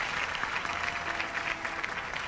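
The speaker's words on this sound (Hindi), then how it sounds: "तो huge round of applause for everybody ladies and gentleman" An audience applauds steadily at a 15th-anniversary celebration event for City News Network, dense clapping sustained throughout without a break.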